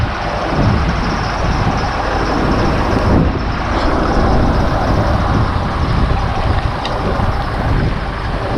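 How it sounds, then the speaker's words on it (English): A lorry unit for a Bridgwater Carnival cart is driven out on a wet, windy day, giving a steady, loud engine rumble mixed with wind noise throughout. "Just getting the lorry unit out now."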